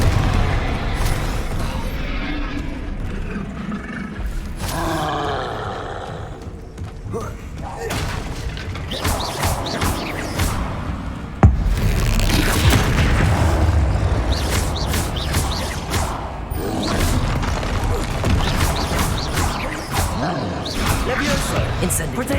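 Confringo fire spells burst in Hogwarts Legacy combat, giving repeated booming thuds and crackling blasts amid busy game effects, with a sharp loud impact partway through and a shouting voice over the chaos.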